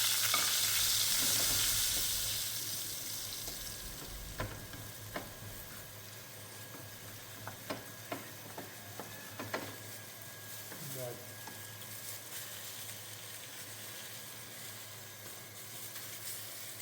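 Mushrooms frying in a pan after water is added, a loud hiss that fades over the first few seconds, then quieter sizzling with scattered clicks and scrapes of stirring.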